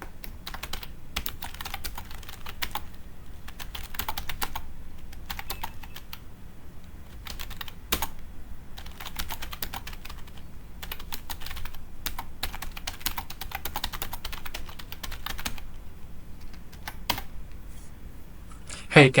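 Rapid clicking keystrokes on a computer keyboard come in bursts with short pauses, close and fairly quiet, continuing for most of the stretch.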